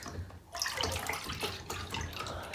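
Cold tap water runs and splashes over PS1 plastic parts being washed, a close, continuous gush that shifts in texture as the parts move under the stream.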